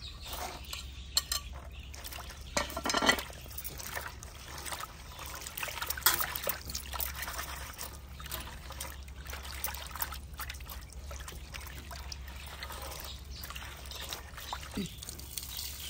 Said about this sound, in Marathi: आपल्याला आता गवार धुवून घ्यायची आहे